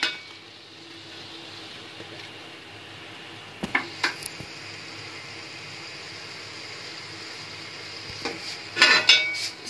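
Onions tipped into lightly heated oil in a pan. A steady low sizzle runs throughout, broken by clinks and knocks of a spoon against the metal pan, with a louder burst of clattering near the end.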